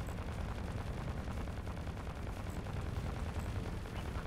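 Point defense guns in the space combat game Fractured Space fire continuously at incoming missiles, a dense unbroken rattle of rapid gunfire with a rumbling low end, steady and loud throughout.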